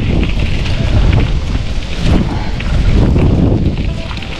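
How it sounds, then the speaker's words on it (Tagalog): Strong wind buffets the microphone outdoors, a loud continuous rumbling roar with gusty surges throughout and no speech. "Ah, yan ang hangin."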